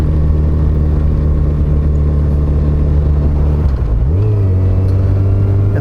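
A motorcycle climbs a mountain road in Bighorn National Forest, Wyoming, its engine droning loudly and steadily, then dipping and rising again in pitch as it shifts gear near the end.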